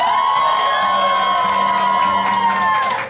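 An audience at a school teachers' band concert cheers and whoops over held, tone-like sounds, a dense crowd roar that stays loud and fairly even throughout.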